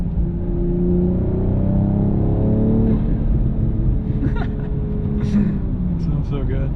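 BMW G42 M240i engine droning loudly from inside the car, a steady rising rumble with faint high flutter bursts near the end, with someone talking over it.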